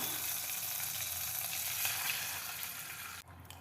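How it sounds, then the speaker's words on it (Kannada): Garlic and curry leaves fry in oil for a palak sambar, giving a steady close hiss of sizzling that fades slightly toward the end, with no talking. "ಎಣ್ಣೆಯಲ್ಲಿ ಚೆನ್ನಾಗಿ ಬೆಳ್ಳುಳ್ಳಿ ಕರಿಬೇವು ಫ್ರೈ ಆದ ತಕ್ಷಣ ಇದಕ್ಕೆ ಸ್ವಲ್ಪ ನೀರು ಹಾಕೋಣ."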